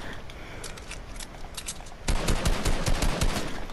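Rapid automatic gunfire in a video game shootout, bursts of close, sharp shots building into a loud, dense volley of fire partway through, with no talk over it.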